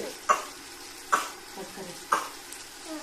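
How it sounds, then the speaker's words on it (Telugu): Tomatoes being stirred into frying chicken biryani masala, a steady sizzle broken by three sharp spatula scrapes against the pan at regular intervals. "టమాటా వేసి బాగా కలుపుకోవాలి"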